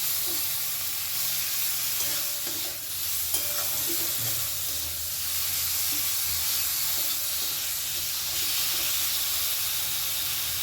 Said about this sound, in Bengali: দিয়ে দিচ্ছি হলুদ গুঁড়ো একটু নাড়াচাড়া করে নেব